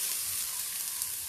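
Chana dal frying in hot oil in a pan, a steady bright sizzle heard up close and alone.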